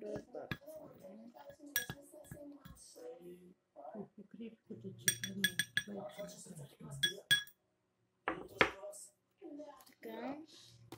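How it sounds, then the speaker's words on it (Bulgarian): A spoon stirs a mixture in a bowl, making light clinks and scrapes of utensil on dish in short bursts between pauses, mostly under a person talking nearby. "И го разбъркваме."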